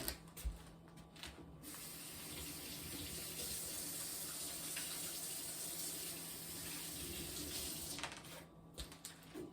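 Hands are washed under a kitchen faucet, with a steady rush of running water lasting most of the time and brief splashes at the start and end.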